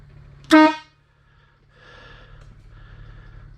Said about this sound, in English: And I should get a few honks out of it.